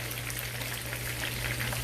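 Steady crackling sizzle of Jamaican festival dough dumplings frying in hot oil, a dense continuous hiss close by with no talking.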